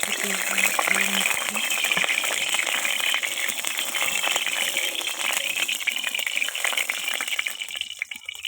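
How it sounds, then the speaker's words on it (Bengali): A rohu fish head fries in hot oil in a home kitchen, giving a loud, steady, close crackling sizzle that carries on without a break and eases slightly toward the end. "এখন আমি মাছের মাথাটা ভালো করে ভেজে নেব"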